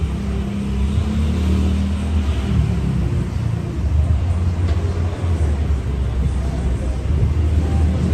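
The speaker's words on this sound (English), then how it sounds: "That exhaust is ridiculous." A loud vehicle exhaust rumbles along a street in Soi Lengkee, Pattaya, a steady low droning roar that holds close and strong throughout with no talk over it.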